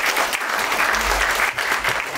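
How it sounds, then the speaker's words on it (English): Applause from a conference audience at the Lifting the Veil event in Leeds greets the speaker Simon Parkes, a dense, steady burst of many hands clapping for a couple of seconds. "big round of applause for Simon Park."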